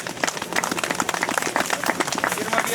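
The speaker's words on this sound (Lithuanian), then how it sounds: "Jei galima dar kartą aplodismentai." An audience at a Lithuanian community gathering claps in brisk, uneven applause, many hands close by with a lively, slightly irregular rhythm and no talk over it.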